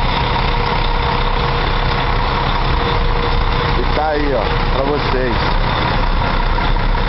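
A Mercedes-Benz O500 RS DD bus with Comil bodywork idles nearby, its steady low engine drone running throughout while someone talks over it.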